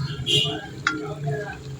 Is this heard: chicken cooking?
yes